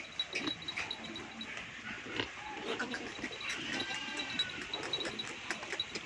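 Goats at a Pakistani livestock sale, Rajanpuri breed, bleat and grunt in a noisy animal pen, with overlapping close and distant calls, rustling and shuffling throughout, and faint voices in the background.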